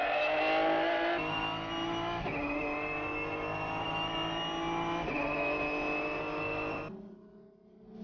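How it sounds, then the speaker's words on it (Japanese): Skyline GT-R racing cars, R33 and R34 models, tear past at Fuji Speedway during a 2001 race. A loud, high-revving engine climbs through several gear changes before fading away. "15台ものスカイライン GTR のレーシングカーが一度に走るレースはこのレースを置いて他にない"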